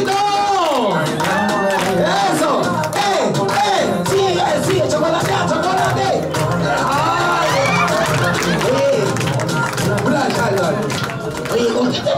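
Guests at a gender reveal party shouting and calling out loudly, a dense continuous wash of excited voices and chatter with scattered claps, and someone talking over the crowd.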